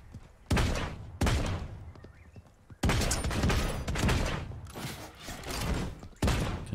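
Gunfire in Destiny 2, several loud bursts of shots and impacts, each starting sharply and trailing off in roaring decays, with short gaps between them.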